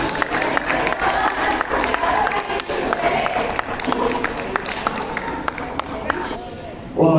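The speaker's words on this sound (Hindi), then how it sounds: "जोरदार तालियां टेंथ के बच्चों के लिए।" An audience applauds and cheers for tenth-grade students at a school Diwali celebration, with a dense, steady roar of clapping and crowd noise, a voice heard over it, and a few sharper claps standing out before it thins near the end.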